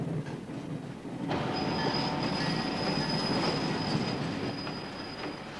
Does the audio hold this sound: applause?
no